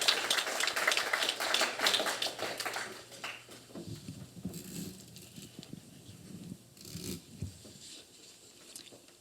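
Audience clapping at an evening talk event, starting as a brisk burst of applause that thins out after a few seconds into scattered claps, rustling and shuffling.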